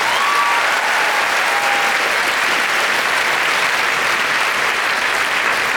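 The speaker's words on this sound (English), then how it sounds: "a big round of applause for them." Audience at a graduation ceremony applauding, dense continuous clapping from a large crowd, loud and steady for about six seconds with no speech over it.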